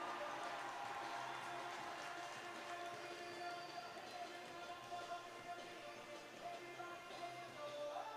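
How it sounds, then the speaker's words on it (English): Family and friends applaud at a motor race event, a faint, continuous wash of distant clapping and crowd noise with a steady rumble underneath. "As he heard the applause from his family and friends."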